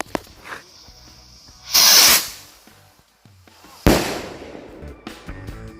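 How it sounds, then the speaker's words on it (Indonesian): New Year's Eve firecrackers lit and launched, giving a loud hissing whoosh followed later by a sharp burst and fizzing crackle, with scattered pops and clicks between, close by and with no speech. "Ini dia merconnya, langsung aja kita coba."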